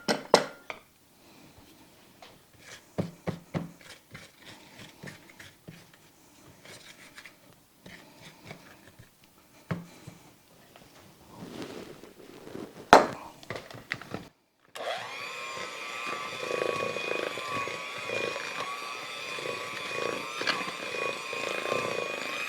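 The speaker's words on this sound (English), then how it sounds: "I'm going to scrape down my bowl" A spatula scraping down a mixing bowl of peanut butter brownie batter, with scattered close scrapes and taps against the bowl, followed by a steady whirring mixer-like hum in the last stretch.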